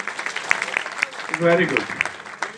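An audience claps in a steady burst of applause, moderately loud and close, with someone speaking briefly over it.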